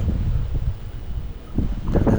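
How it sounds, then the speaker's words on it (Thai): Wind gusts over a narrow forest treetop walkway in Singapore, a low buffeting rumble that rises and falls, with faint rustling from the surrounding canopy. "ลมพัดเย็นด้วยนะครับ ทำให้ชื่นใจเลย"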